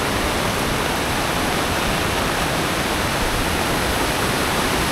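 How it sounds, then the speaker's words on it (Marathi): A waterfall at Dhootpapeshwar Temple in Rajapur, Konkan, during heavy rain, roars in a dense, unbroken rush of water, loud and steady throughout with no other sounds. "तो बघा समोर वॉटरफॉल."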